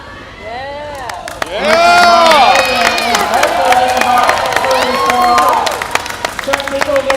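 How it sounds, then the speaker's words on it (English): Roller derby crowd cheering and applauding after a pass through the pack, a sustained roar of voices with scattered claps rising after a quieter start, while an announcer talks over it. "Chuck Nichol getting a lot of applause for that pass through the pack."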